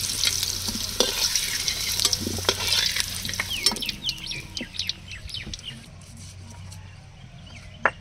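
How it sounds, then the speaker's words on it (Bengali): Fish frying in a pan in a home kitchen, a dense sizzle that thins out partway through, with birds chirping nearby and a few clinks and knocks of utensils. "এবার মাছগুলো ভেজে নেব।"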